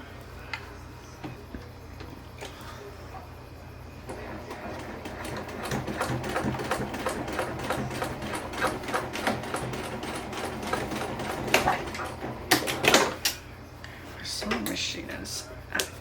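A sewing machine runs in short bursts of rapid ticking stitches while stitching down the sides of a purse, acting up and stopping and restarting, with a person talking quietly at times.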